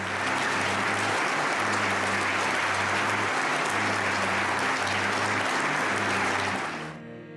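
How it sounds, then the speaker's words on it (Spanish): A large crowd in Munich gives a standing ovation, applauding loudly and continuously, a dense wall of clapping that holds steady before fading out at the end. "una conmovedora ovación en Múnich a su esposa Julia"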